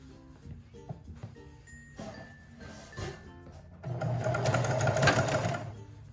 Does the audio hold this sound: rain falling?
no